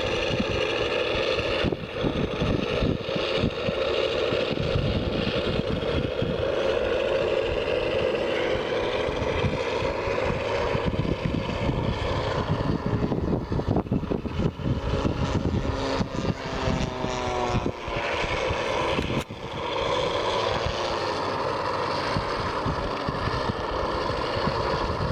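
Small propeller airplane taxiing along a grass taxi strip toward the runway, a steady droning engine with wind buffeting the microphone, continuous and fairly close, with slight swells in pitch.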